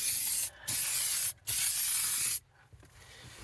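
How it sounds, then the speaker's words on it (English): Kleen-Flo black dashboard cleaner sprays from an aerosol can onto a dirty car dashboard in three close, loud hissing bursts separated by brief pauses, followed by quiet rubbing. "Right now I'm going to start on the passenger side, and we are going to see and spray it on."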